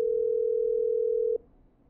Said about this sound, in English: Call Catherine